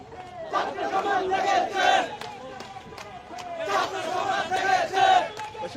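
A student protest march crowd in Dhaka chants slogans in rhythmic unison, two loud surging call-outs rising and falling, with a reporter's voice speaking alongside.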